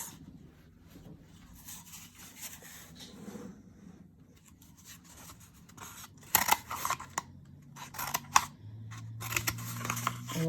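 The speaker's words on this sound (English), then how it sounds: "And I think I might even see if I can cut this." Scissors cut through toilet paper in a series of quiet snips and papery rustles that grow busier and louder toward the end, close by with no speech.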